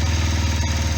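Motorcycle engine with two cylinders and twin exhausts running on choke, a steady low throbbing idle with a regular pulse, close and continuous throughout.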